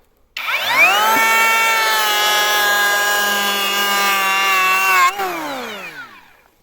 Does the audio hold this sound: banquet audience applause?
no